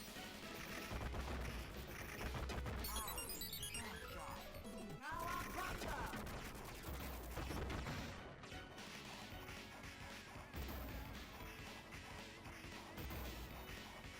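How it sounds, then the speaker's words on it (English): Bombs fall and explode in the Teenage Mutant Ninja Turtles arcade game: repeated crashes and blasts ring out, loud under dense, continuous game music and effects. "Oh god, they're dropping bombs now."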